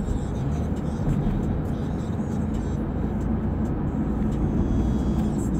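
A Subaru BRZ in a video game rolls along slowly, giving a steady, loud, low engine drone that holds evenly throughout with no clear revving.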